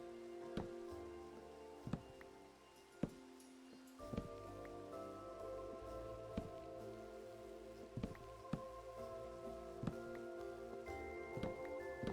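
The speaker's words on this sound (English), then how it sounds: "when I say constantly, I mean constantly raining" Rain falls steadily in a video game, a soft continuous patter with occasional louder drops and faint tonal game sounds running underneath, quiet overall.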